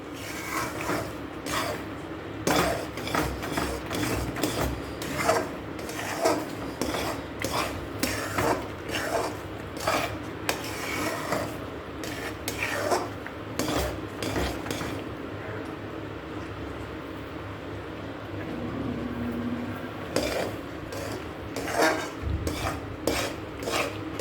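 A spoon stirs and scrapes puran poli filling in a pan, steady rhythmic clinks and scrapes of metal against the pan continuing for a long stretch at close range.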